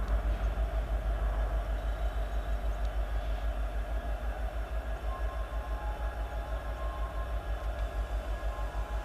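A CN freight train with a pulpwood flatcar and many empty cars rolls past, loud and close, with a steady rhythmic clatter of wheels over rail joints throughout.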